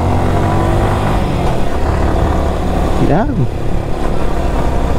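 A motorcycle engine drones loud and close throughout a group ride to a church, with a brief rising-and-falling rev midway, while people talk over the steady engine and wind noise.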